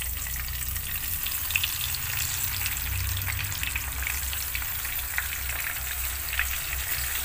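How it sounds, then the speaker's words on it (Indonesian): Onions and spices sauté in hot oil for Indonesian semur jengkol, with a continuous close-up crackling sizzle and occasional stirring, steady and unbroken throughout. "Kita tumis bawang dulu ya."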